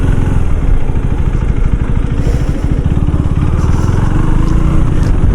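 KTM Duke 390 motorcycle engine on a highway, a loud, continuous throbbing drone with rapid pulsing firing beats and steady wind rush, close and alone without talk.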